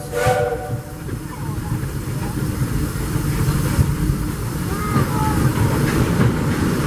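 Disneyland Railroad steam locomotive Ernest S. Marsh #4 rolling along the rails, a brief whistle at the start giving way to a steady, close rumble and hiss of the moving train.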